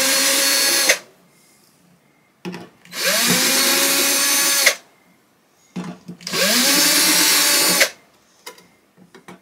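A power drill backs screws out of a guitar pickguard in three loud, sustained whirring bursts of a few seconds each, with short pauses and small clicks between them.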